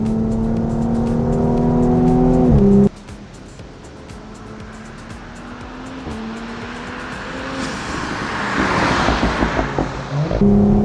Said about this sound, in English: So here we are, tight little turn, brake in, and it just holds.